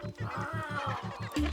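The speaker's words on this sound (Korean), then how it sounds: "펭귄의 천적인 남극 도둑갈매기다." Antarctic skua calling near a penguin colony, a series of about eight regular harsh, nasal bird calls in quick rhythm, fairly close and loud against a busy background of other bird sounds.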